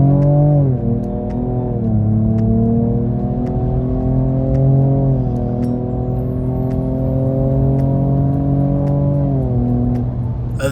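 A 2023 Ford Ranger Raptor engine rising and falling through several loud revs, a deep, close, continuous exhaust drone with gliding pitch changes and no talking.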